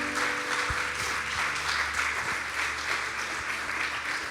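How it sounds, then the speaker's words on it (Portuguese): Congregation applause at a church service, a dense steady wash of many hands clapping at moderate loudness for several seconds, with faint low hum beneath and no voices over it. "Você pode aplaudir o Senhor?"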